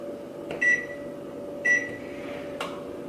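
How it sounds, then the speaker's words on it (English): An oven's control panel beeps as it is set to 350 degrees Fahrenheit in a home kitchen, two short clear tones and a fainter third click over a steady low appliance hum. "set my buddy Oswald to 350 degrees Fahrenheit"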